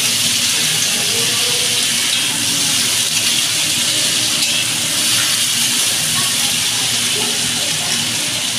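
Chopped onion frying in a pan with caramelized sugar gives a loud, steady, hissing sizzle with no break and no voices.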